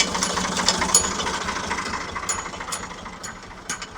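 A lawn mower's small engine runs steadily at a distance outdoors, a continuous buzzing drone with faint mechanical rattles and a few brief knocks over it, and no talking.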